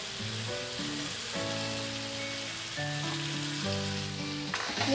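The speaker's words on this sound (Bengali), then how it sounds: "এবার আমি এই ডালটা এই মশলার মধ্যে দিয়ে দেব।" Washed moong dal hits fried spices in a pan and bursts into a strong, continuous sizzle with stirring scrapes, while soft melodic background music plays underneath.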